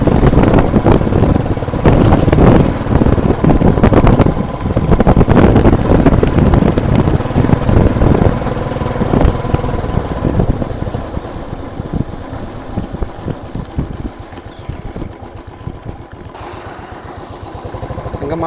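A Royal Enfield Thunderbird 500 rides on a main road, with a loud, continuous engine drone and heavy wind buffeting across the microphone that eases slightly toward the end.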